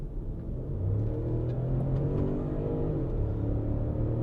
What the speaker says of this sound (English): Let's feel the beast.